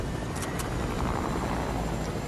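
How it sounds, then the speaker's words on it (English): A helicopter in the Fortnite video game whirs with a loud, steady rotor drone that fills the whole moment, with no talk over it. "I get the helicopter ready."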